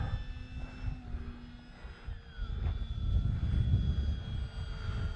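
An eFlite Pitts S-1S RC model airplane flies overhead, its electric motor and propeller giving a steady droning whine that swells and fades a little as it passes, heard from the ground with no talking.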